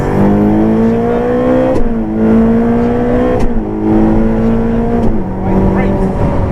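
A Ferrari 488 Pista accelerates hard on a Las Vegas race track, heard loud and close. The engine pitch climbs repeatedly and breaks sharply at about three upshifts, each followed by another rising pull.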